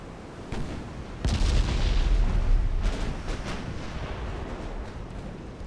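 Warship guns fire in the naval battle game Ultimate Admiral Dreadnoughts, German against British pre-dreadnoughts. Several loud booming salvos crack out in quick succession, then a rolling rumble lingers without talk.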